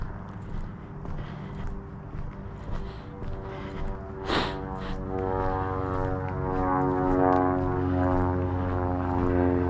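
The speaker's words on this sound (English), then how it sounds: "There's the airplane." A small propeller airplane flies overhead with a steady droning buzz that grows louder and fuller as it passes, heard outdoors during a walk in the sun.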